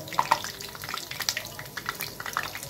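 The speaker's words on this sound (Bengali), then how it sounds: "হয়ে গেছে বড়া ভাজাগুলো আমার, একে একে সব তুলে নিচ্ছে।" Lentil fritters fry in hot oil as they are lifted out one by one, giving a close, steady crackling sizzle broken by a few light scraping and clinking sounds, with no talking.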